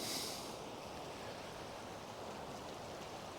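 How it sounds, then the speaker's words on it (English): Surf rolls in steadily at the mangrove zone on the southern end of Four Mile Beach, a soft, continuous rushing wash that stays faint and even throughout with no voices. "You need to hear the rustling surf line over there"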